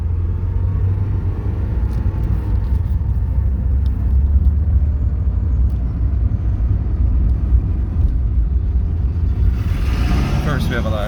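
A 1983 Porsche 944 engine pulling away in first gear, a steady low rumble running throughout with faint road noise and a brief brighter hiss near the end.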